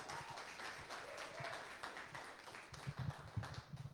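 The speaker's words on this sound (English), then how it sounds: "Can we have another round of applause for all our speakers?" Audience applause for a panel of manufacturing leaders at a spotlight event: a dense wash of clapping hands that runs steadily, then grows louder and more uneven toward the end, with no voices over it.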